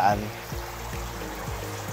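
Water pours and trickles steadily in the background at an Australian red claw crayfish farm, with a low, rhythmic knocking repeating about twice a second.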